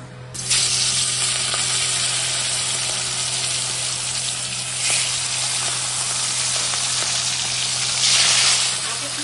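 Pieces of katla fish dropped into hot oil in a kadai for a Bengali fish curry, a loud continuous sizzle that starts abruptly and holds steady, swelling now and then, with no talk.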